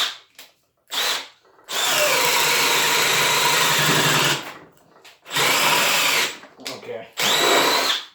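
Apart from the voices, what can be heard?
Milwaukee M18 brushless drill drilling at speed 2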